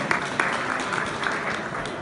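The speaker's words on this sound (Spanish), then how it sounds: "un aplauso para Javi Ortiz por esta aportación" A small audience at a panel discussion on Spanish golden-age software programmers gives brief, thin applause, a few distinct claps standing out over a light patter.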